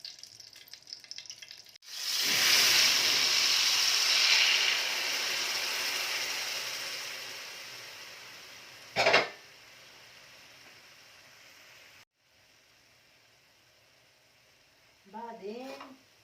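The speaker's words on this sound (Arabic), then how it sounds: "هنزل بكل ده كل ده عندي على الزيت بتاعي." Tomatoes, tomato paste and five garlic cloves drop into hot oil and burst into a loud, steady sizzle that slowly fades, broken by a sharp clatter midway, with a brief voice near the end.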